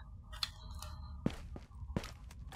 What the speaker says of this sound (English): Yeah, I think I just heard a footstep there.